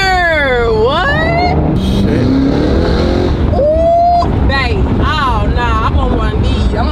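A Cadillac CT5-V Blackwing engine revs hard during a burnout, with swooping rises and falls in pitch and people shouting over the loud roar.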